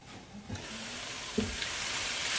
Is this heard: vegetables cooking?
yes